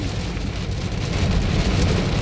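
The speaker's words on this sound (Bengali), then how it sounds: "মুষলধারে বৃষ্টি হচ্ছে দর্শকবৃন্দ, এই যে মুষলধারে বৃষ্টি হচ্ছে।" Heavy rain pours down near Daudkandi on the road from Cumilla to Dhaka in a dense, unbroken hiss that swells slightly louder toward the end, with no voices.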